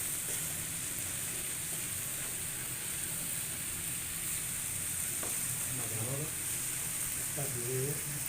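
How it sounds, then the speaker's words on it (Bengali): Sliced cabbage fries in a pan for a Bengali-style bhaji, giving a steady close hiss and sizzle throughout, with a few clattering stirs near the end while a voice speaks faintly in the background. "নাড়া দাও। তো আমাদের ভাজি হয়ে গেছে প্রায়।"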